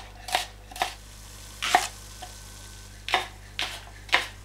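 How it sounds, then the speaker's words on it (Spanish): A knife slices an onion into julienne strips on a cutting board, giving about seven sharp, separate chops at an uneven pace, close and clear against a quiet background. "Picamos en juliana la cebolla."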